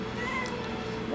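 A house cat meowing indoors, a couple of short, fairly faint meows over soft room tone.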